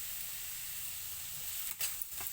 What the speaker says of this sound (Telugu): ఇది ఫ్రై అవుతుంది